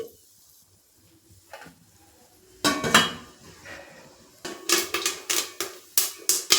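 Jowar grains with turmeric, a little oil and salt roast in a covered pan, giving sharp pops and clinks against the lid that start sparse and become a denser, rapid series of loud cracks.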